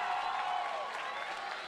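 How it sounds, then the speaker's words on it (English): A gym crowd at a high school basketball sectional final applauds as a player returns to the floor, a soft, diffuse wash of clapping and murmur under the reverberant arena air. "he'll get a nice round of applause as he's good to go now"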